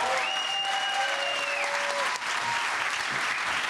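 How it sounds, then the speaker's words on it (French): Sustained applause fills a plenary session on ecological planning, a dense steady wash of many hands clapping at full strength throughout, with faint whistle-like tones gliding over it early on. "je compte absolument sur vous pour que les applaudissements ici soient plus forts que les applaudissements à côté"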